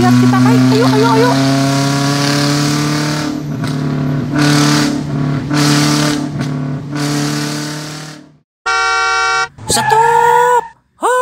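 A truck goes by on the road amid nervous chatter and playful voices, its engine droning steadily, followed by a loud, blaring horn blast and a second shorter honk.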